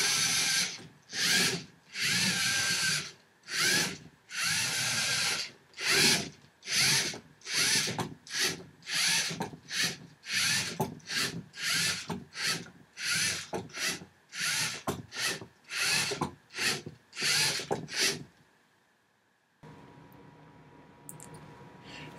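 Small robot motors whir in a long series of short, regular driving bursts, close and fairly loud, each lasting under a second with brief gaps, before stopping into near silence at the end.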